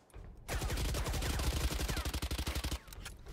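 Rapid automatic gunfire from a weapon in the shooter Valorant, a loud sustained burst of evenly spaced shots lasting about two seconds, close and dominant, then cutting off abruptly.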